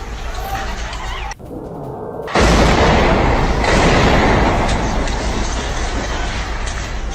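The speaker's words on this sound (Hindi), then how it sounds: "हमास की कम्युनिकेशन बिल्डिंग पर हमला किया गया।" An airstrike on a Hamas communication building in Gaza, in news footage: a sudden loud blast after a brief lull, followed by a sustained roaring, crackling rumble of debris and smoke.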